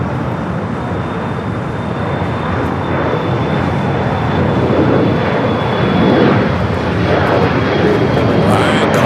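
An old passenger-version Western Global Boeing 747-400 at LAX gives a loud, steady jet roar that swells slightly midway, with a faint thin whine above it and muffled voices underneath.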